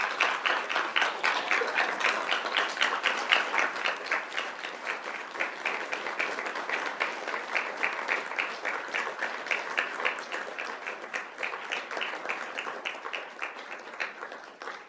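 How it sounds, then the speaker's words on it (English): A large crowd at a school governing board meeting applauds continuously, a dense sustained wash of clapping that holds steady before tapering slightly toward the end. "give you just a huge round of applause"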